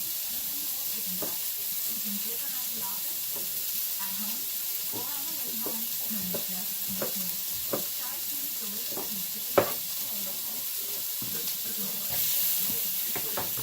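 Food sizzling after being thrown into a frying pan, a steady hiss and crackle with scattered clinks and handling knocks, one sharper thud midway and a swell of hissing near the end, with faint muffled voices in the background.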